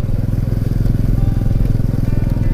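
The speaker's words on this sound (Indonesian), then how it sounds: "motor saya motor biasa, motor bebek. Jadi kalau dikasih jalan kayak gini repot, jalan batu gitu kan" An underbone motorbike rattles and thrums continuously over a rough, rocky stone road, its steady close engine note mixed with jolting clatter from the uneven surface.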